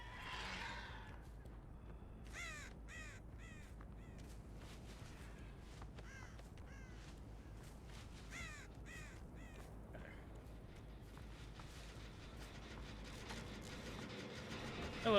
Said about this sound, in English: Don't like that the birds make so much noise when you pass them.